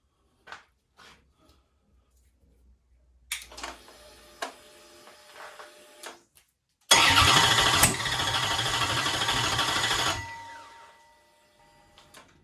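A 1970 Cuda Gen 3 Hemi engine on an engine stand, with quiet clicks and ticking, then a loud burst of cranking and running for about three seconds before it cuts out.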